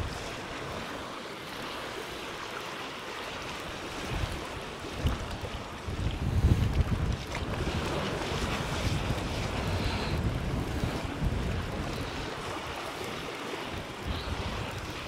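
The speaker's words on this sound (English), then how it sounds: "There's a bit of wind behind me now." Wind gusts steadily at sea around a small fishing boat off Salcombe, Devon, a constant broad rushing roar buffeting the microphone for the whole stretch, with no talking.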